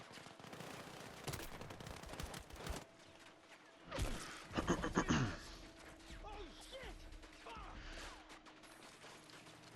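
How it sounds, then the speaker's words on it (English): Battlefield 6 gunfire, with scattered bursts and a dense volley midway through, set among clattering mechanisms and background voices. "we are just shooting."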